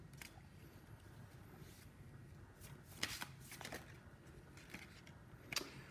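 Tarot cards are shuffled quietly and continuously by hand at close range, a soft rapid riffling with a few sharper card snaps.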